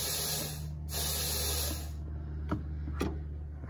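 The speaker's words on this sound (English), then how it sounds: "I'm going to hit it with some air, and you'll be able to actually see it move and see the valve open." Compressed air is blown into a boost controller on a 2G DSM, giving a steady close hiss that cuts off and resumes, followed by a couple of short puffs against a constant low hum.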